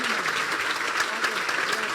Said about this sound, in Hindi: यीशु के जलाल के लिए जोरदार तालियां बजा दें।